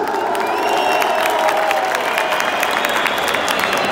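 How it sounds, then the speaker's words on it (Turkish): A football crowd of fans claps and cheers loudly together, with whoops and shouts mixed into the sustained applause, a continuous dense wall of crowd noise. "Hazır mıyız? Alkışlar."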